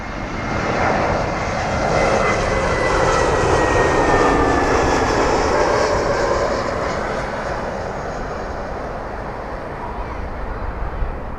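A jet aircraft engine roars on the runway at London Heathrow airport, loud and sustained, swelling and then slowly easing off.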